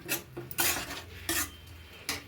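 A spoon scrapes and clanks against a pot while ghee rice is mixed with mint and coriander, several distinct metallic stirring knocks spread over a couple of seconds at close range.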